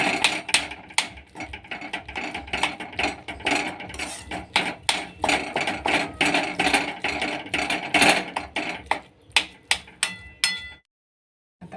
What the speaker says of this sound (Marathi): टोमॅटो मिरची सगळं याच्यामध्ये छान मिक्स करून घेते